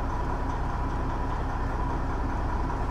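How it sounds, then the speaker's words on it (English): A Detroit diesel engine idles steadily in a Freightliner truck with a 13-speed transmission, a constant low rumble with no break across the whole stretch. "Hopefully you hear the engine all right."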